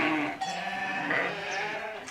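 Sheep being let out of a pen on a farm in central Portugal bleat in overlapping calls, a fairly faint flock of voices rising and falling with no break.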